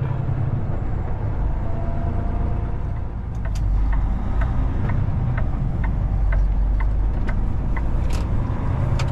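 A car cruises along Inkster Boulevard, a highway, with steady low engine and tire rumble close by and a continuous wash of road noise throughout, broken by a few faint ticking clicks; no one speaks.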